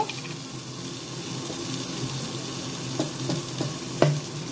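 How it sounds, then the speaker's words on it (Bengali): Spice masala stir-fried in a pan for an onion and egg curry, a steady soft sizzle with occasional scraping strokes of the spatula growing more frequent toward the end, close and moderately quiet. "মশলাটা ভালো করে কষিয়ে নিচ্ছি"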